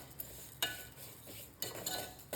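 Vermicelli (semiya) frying in a pan for semiya payasam, with a quiet sizzle broken by a few clinks and scrapes of a spoon against the pan, close and fairly faint, without talking.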